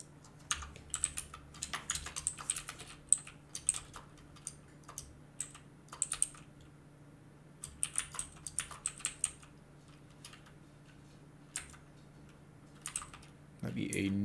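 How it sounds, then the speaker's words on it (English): Code is typed on a computer keyboard in uneven bursts of close, crisp key clicks with short pauses between them, over a low steady hum, with a brief soft noise at the end. "So let me go type my code accordingly."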